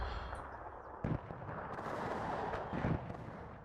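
Artillery firing in the strategy game WARNO: two heavy booming reports about two seconds apart, each followed by a rumbling tail over continuous low battlefield noise.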